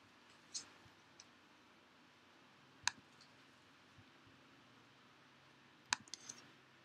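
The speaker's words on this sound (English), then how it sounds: "typing one keyword" Quiet computer keyboard typing during an Android programming session: a few sparse, isolated key clicks spaced seconds apart, faint and close over a low background hum.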